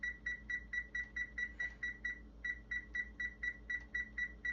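Oven control panel beeping while being set to preheat: a steady run of short, bright electronic beeps in quick succession with a brief pause partway through, close and clear with no talk.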